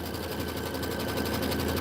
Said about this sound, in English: First thing it's going to do is like a little template stitch